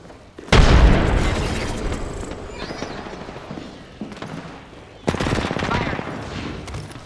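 A frag grenade blast in the Apex Legends battle royale game: a loud close boom that fades into a rumbling tail, followed by crackling bursts of automatic gunfire near the end.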